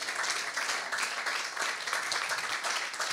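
A church congregation applauding, steady dense clapping from many people that continues evenly throughout at moderate loudness.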